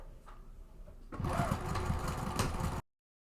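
A domestic sewing machine stitches across the top of a lined tote bag pocket, starting after a quiet second and running as a fast, steady close whirring hum for under two seconds before cutting off.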